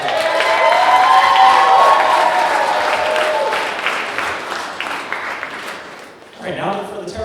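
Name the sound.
applause and cheering at a wedding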